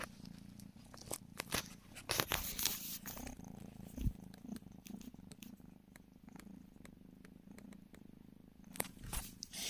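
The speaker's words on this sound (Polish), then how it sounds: "patrzcie, jak one mruczą" Soft, low rumbling purring from kittens, very close, continuous with rhythmic pulses, mixed with occasional small clicks and rustles.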